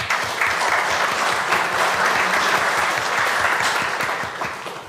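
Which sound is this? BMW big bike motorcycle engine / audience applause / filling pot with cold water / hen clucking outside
audience applause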